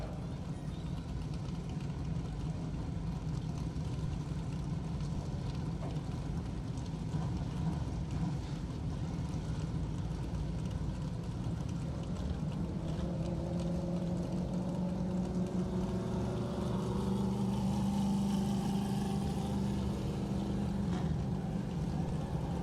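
Tour Modified race cars run at Riverhead Raceway, a steady distant engine drone with a rising whine as a car nears, broad and continuous through the whole stretch.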